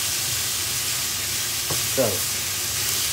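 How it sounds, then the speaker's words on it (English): Mince stir-fries in a pan for a Chinese noodle sauce with a steady, loud sizzle throughout, broken by a couple of brief scrapes of stirring and a short spoken word. "now with this, I've got to stir fry it for about, I think it's 5 minutes"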